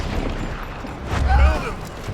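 Gunfire in Red Dead Redemption 2, a muffled burst of shots with a heavier boom near the middle, mixed under game sounds and a voice.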